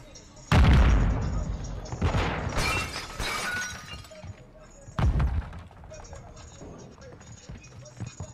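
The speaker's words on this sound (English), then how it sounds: "Throwing Semtex." A Semtex sticky grenade goes off in a Call of Duty Modern Warfare 2 multiplayer match: sharp, loud blasts with shattering crackle and gunfire bursts, several impacts in a few seconds, with in-game radio voices over them.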